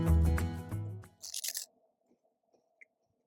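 Crunchy bites of a biscotti-like biscuit during a taste test, a few crisp, close crunches after a burst of talk, then near silence with faint chewing ticks.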